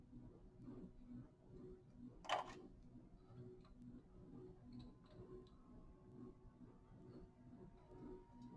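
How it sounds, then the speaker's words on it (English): A lab timer clock ticks faintly and steadily during a one-minute timing while spray cleaners are tested against E. coli and Bacillus. Brief handling noises come through and one sharp click stands out. "And then I'm going to start my clock for exactly 1 minute."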